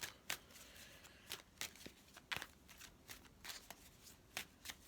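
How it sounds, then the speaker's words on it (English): A deck of angel cards is shuffled by hand in quick, crisp riffling bursts, about a dozen short flutters in an uneven rhythm, close and fairly soft with no talking. "So I'm just going to do a quick shuffle."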